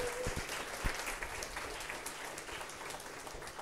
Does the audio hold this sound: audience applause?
yes